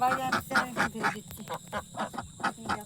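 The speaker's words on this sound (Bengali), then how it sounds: "এই কালো হাঁসটা দেখো" Ducks returning from a rice field quack in a rapid, steady series of repeated calls, fairly close and loud, with a brief voice mixed in among them.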